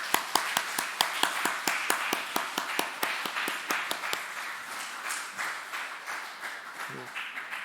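A church congregation claps during a Sunday worship service to welcome guests: sharp, evenly spaced claps in unison, roughly three per second, that later loosen into a more scattered, softer round of applause.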